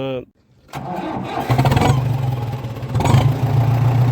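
On a farm where paddy planting has been delayed, an engine cranks briefly and then catches into a loud, steady running chug close to the microphone, with a voice heard just before it starts.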